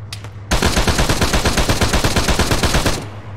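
Sustained automatic gunfire in the Arma 3 military game, a loud, rapid burst of shots lasting about two and a half seconds, close and alone.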